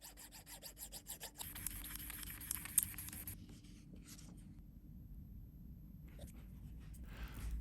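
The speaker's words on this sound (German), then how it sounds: "Mit einer kleinen Feile wird das überschüssige Material entfernt und glatt geschliffen." Small hand file rasping and smoothing the wood of a recorder flute in an instrument repair workshop, quiet rhythmic scraping strokes up close that then thin out into faint intermittent rubbing.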